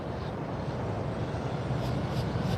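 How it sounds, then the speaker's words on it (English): A brand-new JetBlue Boeing 737 MAX 9 jet at FLL airport gives off a steady, broad engine roar and rumble, moderately loud and continuous with no talk over it. "This jet is brand new, just entered service in February"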